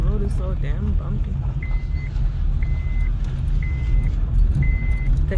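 A learner driver's car rolls over a bumpy road, its engine a steady low rumble throughout with faint repeating electronic beeps, while people talk over it.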